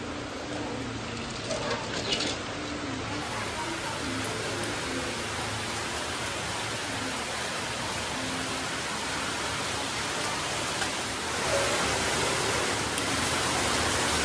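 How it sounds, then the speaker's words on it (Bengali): Heavy rain pours in a dense, continuous hiss, steady and enveloping for the whole stretch, and swells slightly louder near the end. "জোর বৃষ্টি নেমেছে।"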